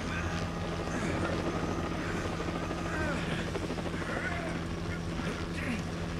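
A helicopter's rotor thrums steadily throughout in the video game LEGO Jurassic World, a constant chopping drone with faint voices murmuring over it.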